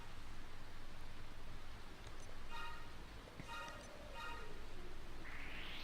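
Rainfall in the video game Dragon Quest Monsters Joker 2, a steady, soft hiss of rain that stays even and fairly faint through the whole stretch, with a few faint tones rising over it briefly.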